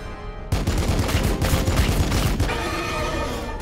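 Gunfire in Warhammer 40k Battlesector, a loud, dense burst of rapid shots kicking in sharply after a brief quieter start and continuing as a steady volley, with no talk over it.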